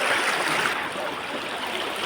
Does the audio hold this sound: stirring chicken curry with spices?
no